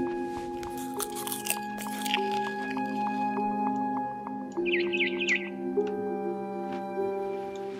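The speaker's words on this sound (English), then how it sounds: "Then I heard chirping outside my window. It was a barn swallow going back to her nest." Barn swallow chirping in the video game What Remains of Edith Finch, a short burst of bright twittering calls over a steady musical drone with other soft game ambience.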